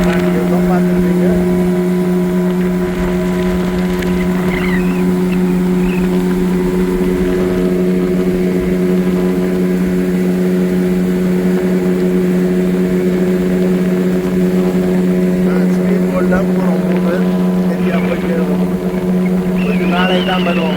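Boat engine running at sea, a loud steady droning hum with strong tonal harmonics throughout, constant and close, with some faint voices mixed in beneath.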